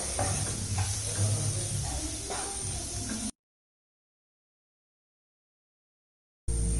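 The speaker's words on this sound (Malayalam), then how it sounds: "നമുക്കിതെല്ലാം കുറച്ച് നല്ലപോലെ ഒന്ന് ഇളക്കി യോജിപ്പിച്ചെടുക്കാം" Spices are stirred into crab roast in a pan, with a close sizzle and scraping stirs for a few seconds, then sudden silence before the sound briefly returns.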